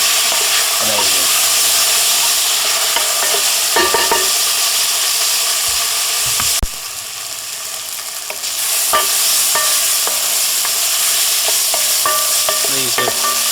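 Onions sizzle and crackle loudly in a pan on a small Landmann Kamado barbecue as they are stirred, with steady frying hiss and occasional scraping of a utensil, close and with no talk.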